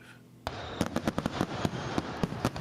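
Fourth of July fireworks burst in a rapid, uneven string of sharp cracks and bangs after a quiet start, each pop sudden and loud against a rumbling, crackling backdrop.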